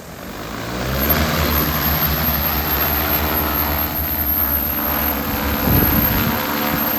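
An NV20 agricultural spray drone loaded with water hovers just after takeoff, its propellers producing a loud, steady buzzing roar close by.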